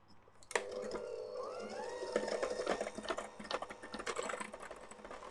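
An electric mixer whisks sugar and other ingredients for vanilla cupcake batter on low speed, giving a steady motor whir with uneven clattering as the beaters knock the bowl. It plays close up and without talk.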